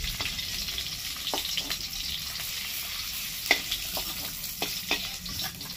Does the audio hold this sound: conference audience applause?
no